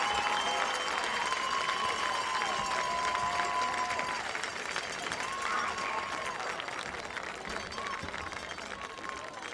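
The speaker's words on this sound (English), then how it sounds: "let's return that salute with a standing round of applause for the Wayne Hills Patriot" Standing applause in the stands at Patriot Stadium for the Wayne Hills Patriot Marching Band at a high school football game, a broad continuous wash of clapping and crowd noise with sustained tones ringing through it and a slight fade toward the end.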